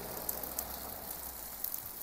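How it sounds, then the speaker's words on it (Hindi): Rain falling steadily during a downpour in Kullu-Manali, a continuous faint hiss and patter with a few sharper drops, no voices. "देख बढ़ गई बारिश"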